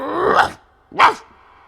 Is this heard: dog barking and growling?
yes